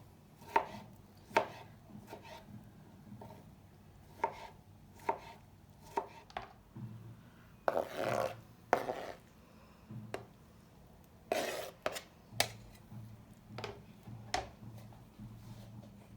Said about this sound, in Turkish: Şimdi yemeklik doğrayıp fasulyelerimizin üzerine ilave edeceğim.